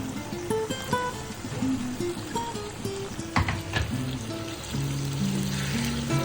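Close-up frying of ground masala in oil for prawn pickle, a steady crackling sizzle with a few scraping stirs, while faint tonal music plays underneath.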